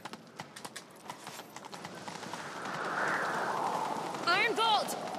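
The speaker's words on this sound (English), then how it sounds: "Grab the horse, we'll chase him down." A horse gallops in The Witcher 3: Wild Hunt, rhythmic clip-clop hoofbeats building into a steady run with a whinny near the end, under game dialogue and a player's talk.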